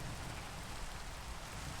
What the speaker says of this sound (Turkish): Çok fena yağmur yağıyor.